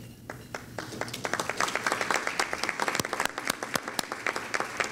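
An audience at a club gathering applauds its sustaining members with a dense, continuous patter of clapping that swells and stays lively throughout, with a little murmur beneath.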